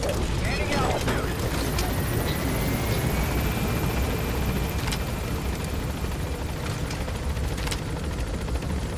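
A helicopter gains altitude in Metal Gear Solid V: The Phantom Pain, its steady rotor roar filling the scene with a faint rising whine. A voice speaks over the engine.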